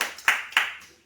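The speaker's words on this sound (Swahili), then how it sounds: "Mpe Bwana sadaka nzuri ya makofi." A church congregation claps as an offering to the Lord, with three short bursts of clapping in quick succession, close and fairly loud, fading out at the end.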